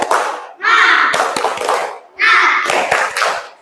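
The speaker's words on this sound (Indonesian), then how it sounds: "Tepuk semangat." A class of children does a rhythmic spirit clap, with two loud bursts of chanting voices and brisk, patterned hand claps that rise and fall in quick succession.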